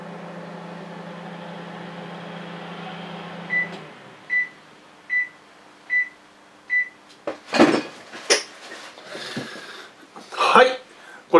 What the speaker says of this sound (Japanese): ちょっと電子レンジにかけてみます